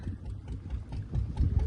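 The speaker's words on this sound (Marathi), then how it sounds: "आमची बोट सुटलेली आहे." A boat engine runs steadily as the boat pulls away, a low continuous throbbing rumble with uneven surges that sits close and moderately loud throughout.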